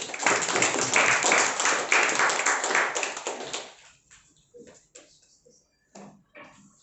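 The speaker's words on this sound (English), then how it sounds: "can we have a big round of applause for Sahana Lokesh?" A forum audience gives a warm round of applause for a featured speaker, dense clapping that fills the room for several seconds, then fades to a few scattered claps.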